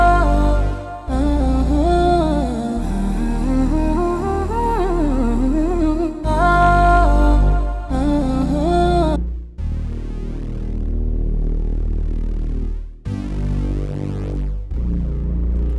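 Synth bass and layered synth parts programmed on a Maschine MK2 into Logic Pro X and processed through a Noctua plugin, a loud, sustained, pulsing pattern that drops out and returns in sections with no voices.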